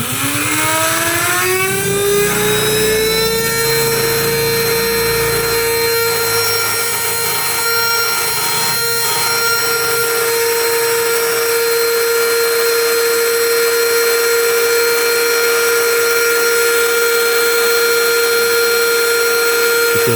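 A DIY PCB bench drill's motor spins up, its whine rising in pitch over a few seconds, then holds a loud, steady, high tonal hum at the set speed.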